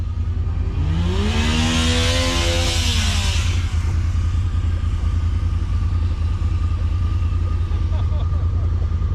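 A motor vehicle revs hard at close range on a group ride of eighteen machines, a rising engine tone climbing for a few seconds over a constant rumbling drone, then settling back to a steady idle while people talk nearby.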